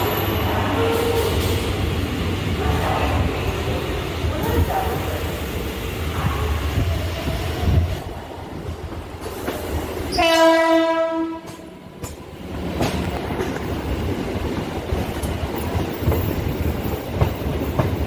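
A crowded, late-running Mumbai local train leaving Churchgate rumbles and clatters steadily along the track. Partway through it sounds a long, loud horn blast, then the rolling noise continues.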